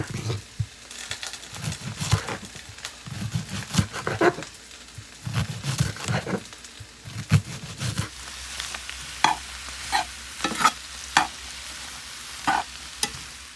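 Chicken and garlic fry in a pan, with a constant soft sizzle broken by repeated clattering scrapes of a utensil stirring, close and loud, with no voices.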